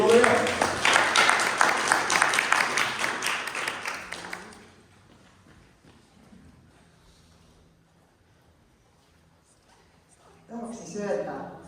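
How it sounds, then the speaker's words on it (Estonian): Warm applause from a congregation welcoming a poet at a Christmas church service, dense clapping for several seconds that fades out, followed by quiet and then a voice beginning to speak. "Nii et tervitame teda aplausiga."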